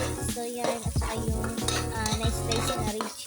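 Ginger and garlic fry in hot pork fat, sizzling steadily while a utensil scrapes and stirs against the pan in quick, repeated strokes, close and clear.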